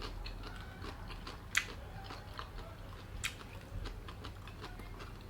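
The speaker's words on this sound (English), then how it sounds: "You guys hear that crunch?" Crunchy bites of whole roast Peking duck being chewed up close, with two sharp crackling crunches and softer chewing clicks between them over a quiet background.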